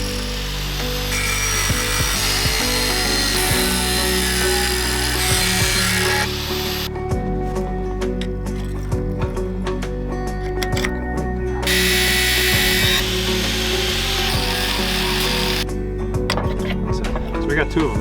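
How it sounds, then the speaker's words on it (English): A power tool grinding metal off close by, a loud continuous whine with rattling that cuts in and out over about eighteen seconds, with someone speaking over it. "Grind it off."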